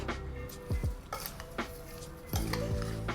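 Fresh berries are stirred with lemon juice in a bowl, giving soft, close scrapes and a few light clinks of a utensil against the dish, quiet and without talking.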